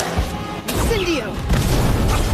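An Incendio fire spell cast in the Harry Potter Magic Awakened video game bursts out as a loud, booming whoosh with crackling impact, filling the short moment with dense game effects.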